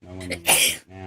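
A single sharp, forceful sneeze bursts out close to the microphone, set between stretches of someone talking.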